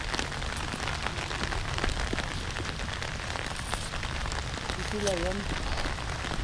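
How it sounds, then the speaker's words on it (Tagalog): Steady rain patters on a surface, a dense even hiss that runs throughout, with people talking nearby over it. "Umulan na po."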